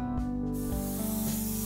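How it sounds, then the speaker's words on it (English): Airbrush spraying a mix of transparent yellow and pearlized gold Createx paint over a perch fishing lure, a continuous close, soft hiss with slight pulses and no talking. "I'm spraying it everywhere except the bottom."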